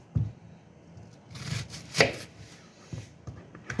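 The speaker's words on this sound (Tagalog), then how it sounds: "Maghiwa tayo ng sibuyas para sa ating lulutuing mujadara." Knife chopping onions on a board for mujadara, an Arabic rice-and-lentil dish: a few separate close, sharp cuts spaced out over a few seconds, with a denser burst of strokes in the middle, no voices.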